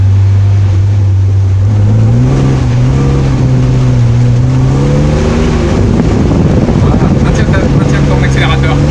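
A car engine revs hard while drifting on the Ladoux track, loud and continuous, its pitch climbing and dipping as the throttle is blipped, with rougher tyre and exhaust noise building toward the end.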